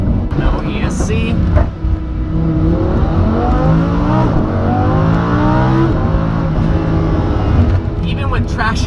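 A Lamborghini Huracan with all-wheel drive is driven fast in Corsa mode with traction control off. Its loud engine drones continuously near the listener, the pitch rising and falling as it revs through acceleration.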